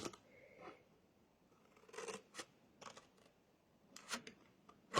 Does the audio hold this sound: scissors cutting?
yes